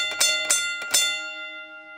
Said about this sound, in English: We got a bell.